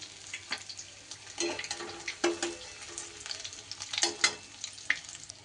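Chapila fish frying in oil in a wok, a steady soft sizzle with a few scraping stirs and spatula clinks scattered through, close and fairly quiet, with no voices.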